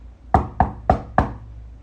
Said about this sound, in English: There's a bit of a knock to come back to your body.